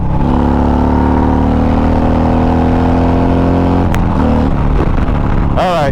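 A Zipper's Performance Stage 4 Harley-Davidson rumbles loud and close as it accelerates onto an interstate, the engine note rising through the gears. Wind rushes past and a rider speaks briefly over it.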